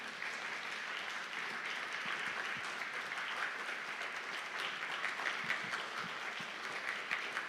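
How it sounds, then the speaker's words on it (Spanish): A church audience at a Bible conference applauds as a visiting pastor comes up, steady, even clapping from many hands that holds at a moderate level throughout without voices. "Con fuertes aplausos le recibimos."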